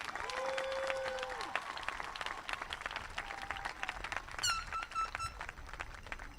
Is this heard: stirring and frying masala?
no